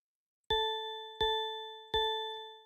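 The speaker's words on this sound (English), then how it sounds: "this bell has a really dongy sound" A synthesized bell instrument in LMMS music software strikes three times at an even pace, each note clean and sustained with a slow decay, alone over silence.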